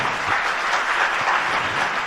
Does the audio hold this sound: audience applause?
yes